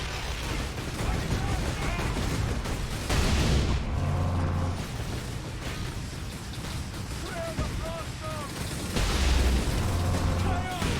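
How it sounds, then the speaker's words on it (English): Grenade blasts from Chaos Lords in Warhammer 40k: Space Marine, booming bursts over a dense wall of constant battle noise, with heavier low rumbles at intervals and sounds that could be voices. "Billions of grenades with the Chaos Lords"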